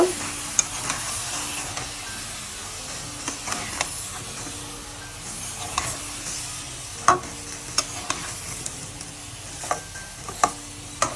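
Potato and flat bean curry being mixed in a pan, with a steady fry sizzle beneath repeated sharp scrapes and clinks of a spoon against metal, close and fairly loud, with no speech.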